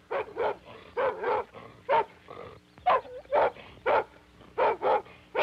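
A dog in a 1965 cartoon barks repeatedly in a steady series of loud, close woofs with short gaps between them.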